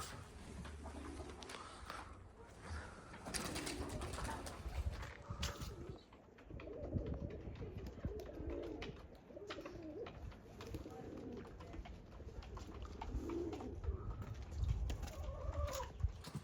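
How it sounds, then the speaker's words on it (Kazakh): Pigeons coo repeatedly outdoors in soft, low rolling phrases, with faint clucking of chickens and other bird sounds around them and a little distant voice. "бізде мында сосын көгершіндер далада тұр"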